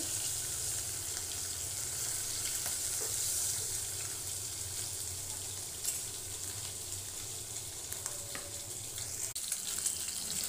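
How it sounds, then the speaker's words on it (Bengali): A poha fish fries in oil in a pan, giving a soft, continuous hiss with faint bubbling and an occasional small clatter, heard fairly close and without speech. "মাছ ভাজা কমপ্লিট"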